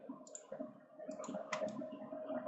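Faint, sparse computer mouse clicks during 3D CAD modelling in CATIA V5, a few light taps over a low steady hum.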